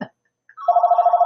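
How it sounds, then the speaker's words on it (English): A telephone rings on another line, a brief sound at the start followed by a close, steady electronic trill that pulses rapidly and keeps going to the end, with no talking over it. "Sorry, my other line. Oh my gosh, why is it ringing?"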